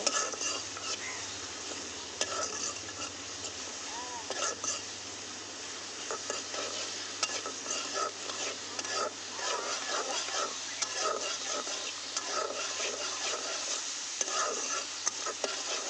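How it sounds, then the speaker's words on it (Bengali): Onions are stirred and fried in a pan until brown, giving a close, continuous crackling sizzle broken by frequent scraping and stirring strokes. "পেঁয়াজটা একটু মানে নেড়ে চেড়ে ভালো মতো বাদামি বাদামি হয়ে আসবে।"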